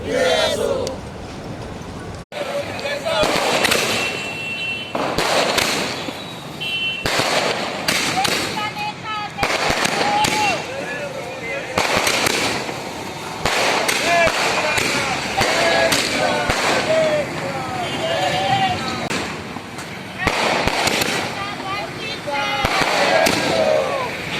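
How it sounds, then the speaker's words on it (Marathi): Rapid strings of firecrackers crackle and pop continuously amid a noisy crowd at a BJP celebration in Parbhani of Narendra Modi's third swearing-in as Prime Minister, with bursts of shouting rising over the dense, irregular bangs. "कार्यकर्त्यांनी फटाके वाटून आनंदोत्सव साजरा केला"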